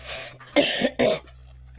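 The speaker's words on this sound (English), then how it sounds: "I have a little bit of a cough and a cold" Two harsh coughs in quick succession, close and loud, followed by a moment of quiet.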